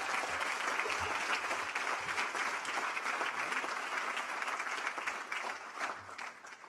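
Warm applause from a commencement ceremony crowd at a boys' school graduation, a dense sustained clapping that fills the whole stretch and tapers slightly toward the end.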